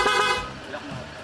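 A PIAA horn fitted to a TDD Dominator sounds one short, loud, bright honk that cuts off quickly.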